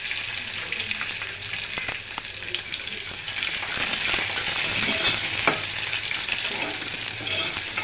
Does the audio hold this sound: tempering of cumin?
yes